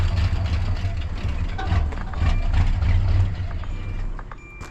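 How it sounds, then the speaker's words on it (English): A 1978 Jeep J20 engine idles nearby with a low, steady rumble and a light ticking clatter from its valve train running over the top. "I've got some valve train noise."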